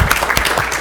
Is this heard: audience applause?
yes